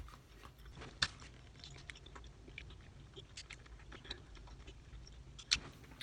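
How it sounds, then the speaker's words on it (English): Gum being chewed up close, with soft, irregular wet clicks and smacks and a couple of sharper snaps, quiet against a low background hum. "so I'm going to chew it"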